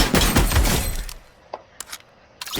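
SCAR assault rifle fire in the Fortnite video game: a dense, loud burst of rapid shots over the first second, followed by a few sharp isolated cracks and impacts.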